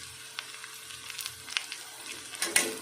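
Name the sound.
onions frying in a pan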